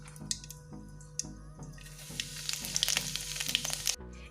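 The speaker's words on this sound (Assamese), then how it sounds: "এয়া তেল গৰম হৈছে এতিয়া মই অকনমান গোটা জিৰা দি লম" Whole cumin seeds hit hot oil in a kadai while cooking fish egg curry, giving a crackling sizzle that builds and brightens partway through with scattered pops, close and alone before cutting off abruptly.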